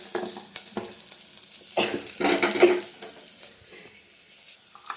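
Food sizzles and fries in a pan with turmeric added while breakfast is cooked, a steady crackle swelling into a louder burst of stirring midway, then settling back to a softer sizzle.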